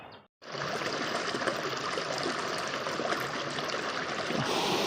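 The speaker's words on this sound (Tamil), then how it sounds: "தண்ணி சவுண்டு கேட்குது." A small hidden waterfall at the foot of Kollimalai pours and trickles in a steady, full rush of flowing water. It is heard up close after a brief silent gap at the start, with no voices.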